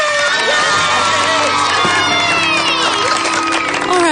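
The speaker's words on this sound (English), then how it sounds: "Now, kids, there's no need for all this excessive cheering." Excited children cheering and yelling together, loud and sustained, with high shrieks rising over the crowd noise.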